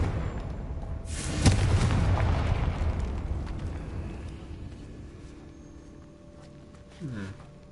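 In the Hogwarts Legacy video game, a Confringo blasting spell detonates with a sudden loud boom, followed by a long rumbling decay and a brief magical flourish near the end.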